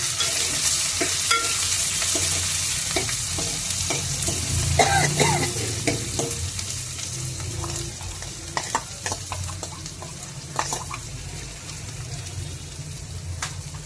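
Cumin seeds, green chillies and onions frying in oil for a gongura curry, a busy crackling sizzle with frequent sharp pops and spatula scrapes, fairly close and loud, continuing throughout without talking.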